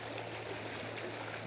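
Water of the Beaverhead River in Montana flows steadily below a shallow riffle, giving a continuous soft rushing and trickling hiss, close and even, with no talk.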